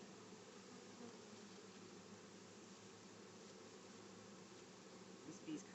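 Honey bees buzzing steadily during a hive install, a faint continuous drone with a brief louder pass near the end.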